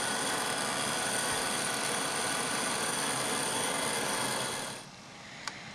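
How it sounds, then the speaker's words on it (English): A heat gun blows a steady, loud broadband roar while softening Friendly Plastic, running continuously for nearly five seconds before cutting off, followed by a faint click. "having been heated with a heat gun"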